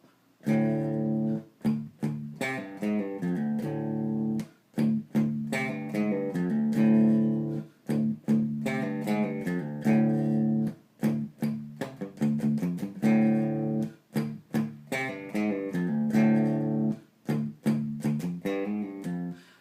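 A slow electric guitar solo from a song at about 86 BPM, melodic lines of picked notes and bends with brief pauses, played alone and steady for the whole stretch.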